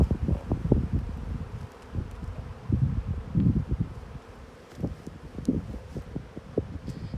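Honeybees buzzing close around a beehive, irregular swelling drones rising and falling against light wind and rustling, with no talking.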